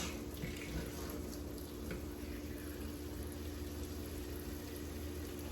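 Water runs steadily from a tap while plantain leaves are rinsed, a faint, even hiss with no talking.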